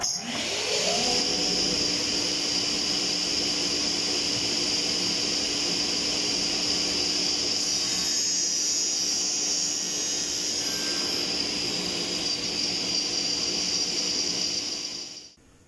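A table circular saw starting up with a rising whine, then running at a loud, steady high-pitched drone before spinning down at the end.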